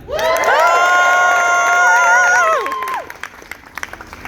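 An audience at a Science Riot comedy show bursts into loud cheering, whoops and shouts that hold strong for about two and a half seconds, then fade into scattered claps and voices.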